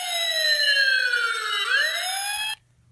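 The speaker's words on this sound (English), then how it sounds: "You can even remove the magnet and the fire engine sound remains." An E-Blox Circuit Builder electronic fire engine siren wails in a falling, then rising electronic sweep that is loud and continuous. It cuts off abruptly after about two and a half seconds, leaving near silence.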